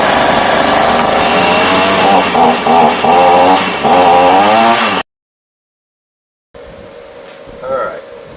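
A Ryobi RY3818 gas chainsaw fires up and runs loud and close, its buzzing engine surging and rising for several seconds before cutting out to silence, then faint handling noise and a brief thump follow.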